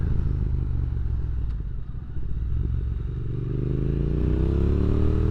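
A Kawasaki ZX14 motorcycle rides along a road at light throttle, its engine a loud, steady close-up drone with wind rumble and a slight rise in pitch toward the end.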